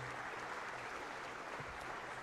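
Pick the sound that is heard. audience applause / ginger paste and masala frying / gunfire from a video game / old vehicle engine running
audience applause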